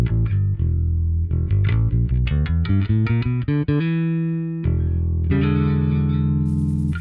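Bass guitar through a clean preset with a slight gritty bite plays a run of plucked notes climbing in pitch, then a few sustained held notes, loud and alone with no talking.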